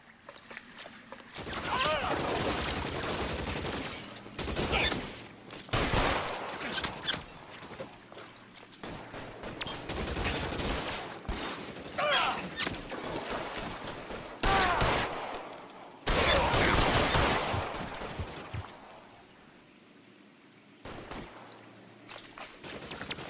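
Gunfire in the crime game L.A. Noire comes in several loud broadband bursts spread across the scene, mixed with dialogue and ambient game sound between volleys.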